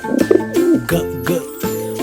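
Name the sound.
pigeon cooing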